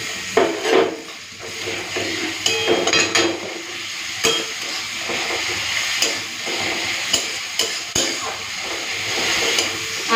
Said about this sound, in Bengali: পেঁয়াজটাকে লাল করে ভেজে নিয়েছি, এরপরে এই আদা, রসুন, কাঁচা লঙ্কা বাটাটা দিয়ে দিচ্ছি।